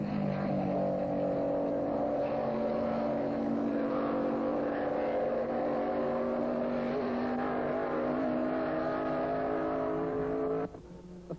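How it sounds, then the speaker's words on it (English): Formula 1 race cars from 1957 speed past the pits at the French Grand Prix at Reims, a loud, sustained engine drone with steady harmonic tones that drops away abruptly at the end. "Fangio and Hawthorne flash past the pits at tremendous speed, still hotly disputing 3rd place."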